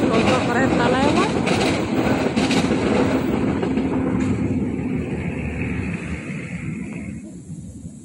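A train rumbles past nearby in Purwakarta after rain, a loud broad roar with rhythmic clatter that holds for several seconds, then fades as it moves away.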